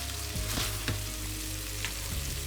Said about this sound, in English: So as these are cooking up, you can also give the frying pan a little bit of a shake.